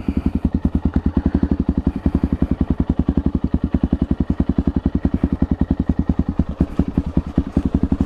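A Honda CRF dirt bike engine chugs close by on a trail at a steady, rapid low thump, loud and continuous throughout.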